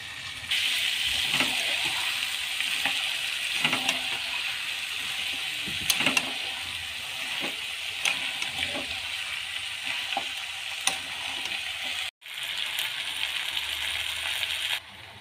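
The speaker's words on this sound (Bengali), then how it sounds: "আলু মাংস মটর এগুলো ভালোভাবে সব কষা হয়ে গেছে" Mutton with potatoes and peas frying in a pan, a close, continuous sizzle broken by repeated scraping and clinking stir strokes, with a brief near-silent break before the frying resumes.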